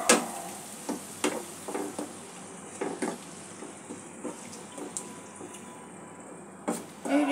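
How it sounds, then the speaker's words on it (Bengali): Masala being cooked down with yogurt in a pan for a fish curry, gentle sizzling under a series of spaced scraping stirs and taps of a spoon, quiet and close. "টক দইটা দিয়ে একটু মিক্স করে মশলাটা আর একটু কষিয়ে নেব"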